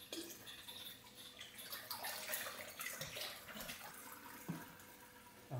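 Two gallons of water are poured into a fish tank, a faint continuous splashing and trickling with a few brief surges, quiet and close.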